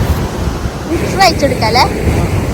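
Ocean surf and wind rush steadily at Unniyal beach, with someone speaking over the roar.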